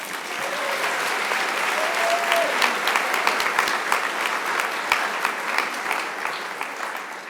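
Audience at a governor's disability summit breaks into loud, sustained applause, many hands clapping together in a dense even wash that tapers slightly at the end.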